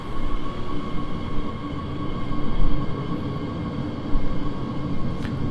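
Local train pulling out of a station in Train Sim World 4 during a late-night ride, a steady loud rumble of wheels and motors running continuously with slight swells and no speech over it.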